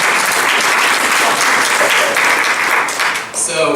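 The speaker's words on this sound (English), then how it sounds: "Let's give him a round of applause." Audience at a youth Sunday church service breaking into loud, sustained applause, dense overlapping claps filling the room and tapering slightly near the end, with voices mixed in.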